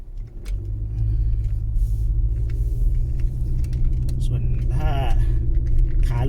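A Honda Civic Turbo labours up a very steep mountain road near Khao Phlueng in Phrae, its engine holding a steady, heavy low drone with rumble from inside the cabin, and a brief voice near the end.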